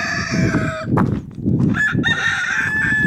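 Several roosters crow close by in a village, their long cock-a-doodle-doo calls overlapping, with clucking mixed in.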